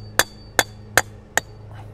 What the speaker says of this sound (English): And get this rebar pounded in pretty good.